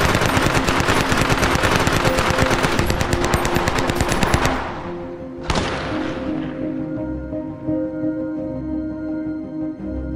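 A WW2 machine gun fires blank rounds in a long, rapid, loud burst of closely spaced shots lasting several seconds, followed by one more sharp crack and a ringing, fading tail.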